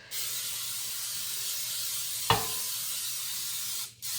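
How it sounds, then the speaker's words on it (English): A steady, close hiss of aerosol cooking spray coating a baking pan runs continuously for several seconds, broken once by a brief clunk, then stops. "We're gonna heavily spray pan number 2."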